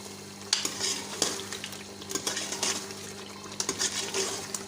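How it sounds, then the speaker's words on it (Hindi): Spoon stirring red Kashmiri chili and turmeric spice mix into a cauliflower and meat curry (gobhi gosht), scraping clicks and wet stirring over a steady low sizzle, close and alone. "अब इसकी करते हैं अच्छी तरह मिक्स।"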